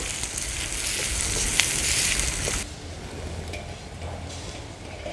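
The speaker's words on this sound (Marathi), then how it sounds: "कांदा व्यवस्थित आपल्याला शिजवून घ्यायचा आहे" Chopped onion with green chili and crushed ginger-garlic sizzles in a pan, a bright crackling fry that is louder at first, then drops to a softer, steady sizzle.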